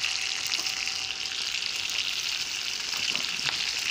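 Salisbury steak patties sizzle steadily in a hot pan, a continuous bright crackling hiss with occasional sharper pops of grease, close and moderately quiet with no voices.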